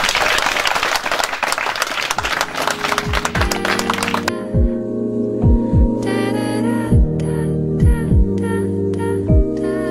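Wedding guests at a ceremony break into dense, lively clapping for about four seconds, then the applause gives way to a song with singing.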